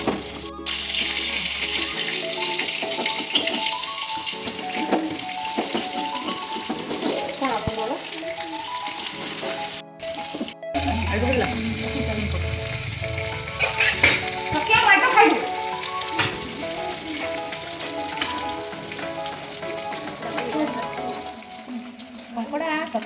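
Crab curry sizzling and frying in hot oil, with a steady crackle and occasional scraping stirs close by, over continuous background music.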